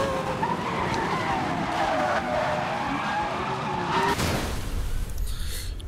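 A car in the Need for Speed Most Wanted racing game accelerates hard and skids, its engine and tire squeal holding loud and steady throughout, with a harsh burst of skidding near the end.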